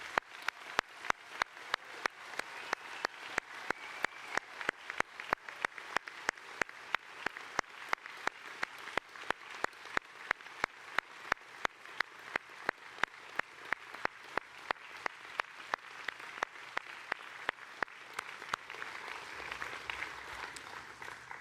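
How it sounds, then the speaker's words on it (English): An audience at a university graduation ceremony for business and law graduates gives a long, warm round of applause, sustained clapping with a steady, regular beat of sharp claps running for about twenty seconds before tapering off. "Please join me in congratulating our graduates by giving them a warm round of applause"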